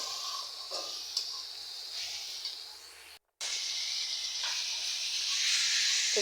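Fish sizzles in a frying pan with a loud, steady hiss of hot oil that cuts out briefly midway, then returns even stronger.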